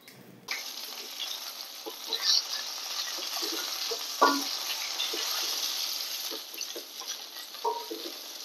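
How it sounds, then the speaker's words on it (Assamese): Dried chilli and bay leaf drop into hot oil left from frying fish, bursting into a sudden sizzle that settles into continuous crackling with small pops, close and fairly loud. "তেলত মানে মাছ ভজা তেলতে শুকান জলকীয়া তেজপাত দি পানি"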